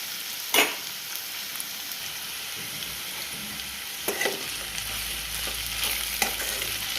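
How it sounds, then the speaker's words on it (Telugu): Okra fries in a pan for a crispy bendakaya fry, a steady close sizzle punctuated by a few sharp stirring scrapes, with a low rumble joining near the end. "బెండకాయ మంచిగా ఫ్రై అయింది కదా"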